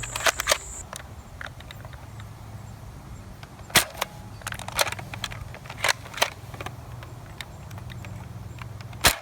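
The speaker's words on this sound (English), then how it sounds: "3 shots with my unmodified Nerf strong arm" An unmodified grey-trigger Nerf Strongarm blaster fires darts, a few sharp close snaps spaced several seconds apart amid quieter handling clicks and low background hum.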